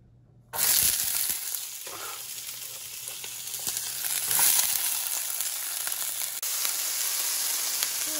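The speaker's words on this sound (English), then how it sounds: "3-4 spoons of olive oil and start sauteing these vegetables." Vegetables, including pepper, green onion and green beans, hit hot olive oil with a sudden loud sizzle that then holds as a steady, close frying hiss with occasional stirring scrapes, and nobody speaks.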